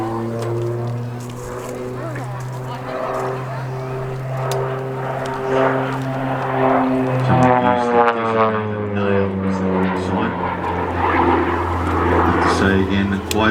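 OV-10 Bronco twin-turboprop military aircraft making a simulated combat attack pass at an air show, a loud propeller drone rising and sweeping past with a Doppler shift, under continuous commentary from a public-address announcer.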